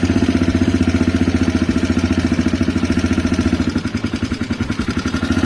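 A CSC RX3 motorcycle engine idles while the bike rolls along without throttle, producing a steady, rapid, pulsing thump that stays close and loud, with a slight change in rhythm near the end and no voices.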